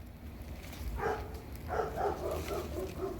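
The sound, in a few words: dogs barking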